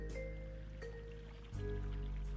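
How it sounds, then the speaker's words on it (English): Water splashing effects from the video game SoulSet, a few soft, evenly spaced splashes over a quiet, steady game background, faint overall and with no voices. "Ugh, splashing sound effects."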